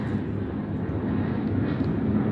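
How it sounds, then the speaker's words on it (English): Broad steady low rumble of an airplane flying overhead, continuous and fairly loud throughout with no voices. "Don't you hate it when you are doing videos and planes decided to fly?"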